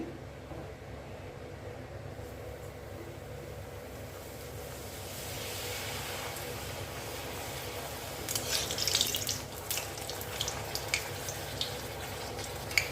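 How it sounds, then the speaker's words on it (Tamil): Black urad dal appalam frying in well-heated oil gives a steady, broad bubbling hiss that swells louder partway through, with crackly bursts near the end and no voices. "இப்போ பொறிச்சு காமிக்கிறோம் எண்ணெய் நல்லா காய வச்சுட்டு"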